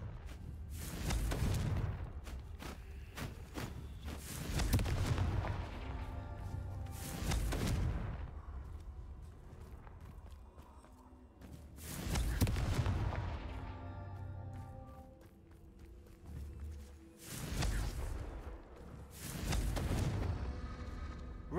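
Confringo fire-blast spells in the Hogwarts Legacy video game go off as heavy, booming explosions, about five big blasts spaced several seconds apart, each with a rumbling tail over a low continuous game background.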